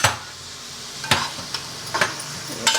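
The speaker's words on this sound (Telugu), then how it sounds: "బ్రౌన్ కలర్ వచ్చే వరకు వేయించుదాం" Sliced onions with a pinch of salt fry in a pan for a fish curry, giving a steady soft sizzle with a few sharp clinks of a spoon stirring against the pan.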